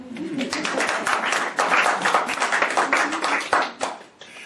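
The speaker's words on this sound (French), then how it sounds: "On peut applaudir Samuel de nouveau." A church congregation claps for Samuel at a sermon, a dense, steady patter of many hands filling the room, with a faint voice underneath before the applause trails off at the end.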